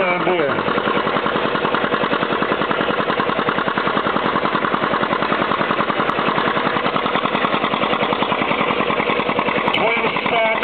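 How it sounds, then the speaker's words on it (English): An antique John Deere two-cylinder tractor with twin stacks works hard pulling at a tractor pull event, its engine a loud, continuous rapid chugging beat that stays close and steady throughout. "Watch this little John Deere here go."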